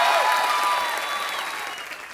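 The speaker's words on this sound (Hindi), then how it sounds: "ताली बजाओ रे इंडियन आइडल पर" Studio audience at a comedy talk show bursts into applause, a dense wash of many hands clapping at once that is loud at first and slowly fades over a couple of seconds.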